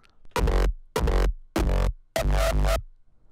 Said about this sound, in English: make a kick in the style of dark horror